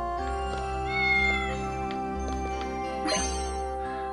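A tiger-striped cat in the video game Fantasian gives a short synthesized meow over steady looping background music with chimes and tinkles, fairly clear in the mix.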